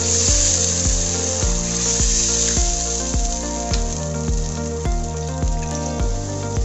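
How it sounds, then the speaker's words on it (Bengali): Water poured into a hot pan of tomato fish curry with sea pomfret hisses and sizzles loudly, with repeated sharp clatters at an uneven rhythm, close up and with no talk. "এখন আমরা পানিটা দিয়ে দেবো ঝোলের জন্য হালকা"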